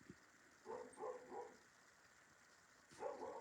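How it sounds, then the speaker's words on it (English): Two rescued puppies, sisters, bark in the background, a short cluster of three yips followed by another bark after a pause, fairly faint and distant. "I have puppies barking in the background."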